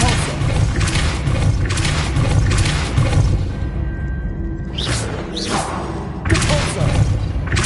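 Depulso spell effects in Hogwarts Legacy: forceful whooshing blasts with thuds hit in short bursts over steady game ambience, with a quieter gap midway before two more blasts.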